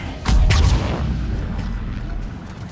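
A grenade detonating in the Mass Effect 3 video game: one heavy, deep boom right at the start, followed by a rumbling tail that fades slowly.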